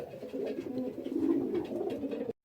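Cock pigeons coo in a stock loft, a close, continuous low burbling with rolling, throaty swells that rise in the middle and cut off abruptly.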